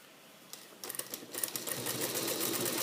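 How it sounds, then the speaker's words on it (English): A sewing machine stitches a sleeve onto a garment's armhole along a half-inch seam. After a quiet start, close rapid rhythmic clatter picks up and settles into a steady, loud mechanical whir, with no talking. "So as you're stitching the sleeve,"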